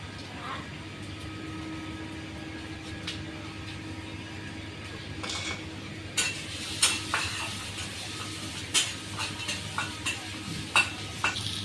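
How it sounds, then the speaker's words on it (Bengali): Food frying in foaming mustard oil sizzles steadily at low level while a utensil scrapes and clinks against the pan in irregular strokes; a few faint voices are heard. "দেখছো সর্ষের তেল দিয়ে রান্না করে দেখে একদম ফেনা হয়ে গেছে"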